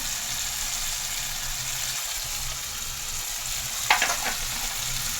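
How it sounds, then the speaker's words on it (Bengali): Cashew and poppy seed spice pastes frying in a pan for a mixed vegetable paneer dish, a continuous even sizzle with a brief cluster of spatula scrapes near the end. "দিয়ে ভালো করে এটা আমি কষবো, এভাবে মিশিয়ে নেব"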